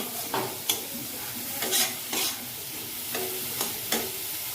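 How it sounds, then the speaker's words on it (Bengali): Curry leaves sizzling in hot oil in a kadai as tempering for dal: a continuous crackling hiss with repeated close scrapes and taps of a spoon stirring at an uneven rhythm, no voices. "কারি পাতা দিয়ে একটু ফোড়ন দিলাম।"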